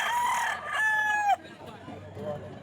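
Gamefowl rooster of the Iron Cock line crowing at a market, one loud close cock-a-doodle-doo with background murmur and clucks, and people talking nearby.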